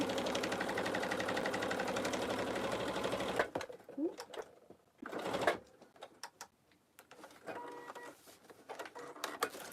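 Sewing machine stitching the exterior bottom of a tote bag stiffened with Peltex runs steadily and loudly for about three seconds, then stops, leaving soft handling noises and rustling of fabric.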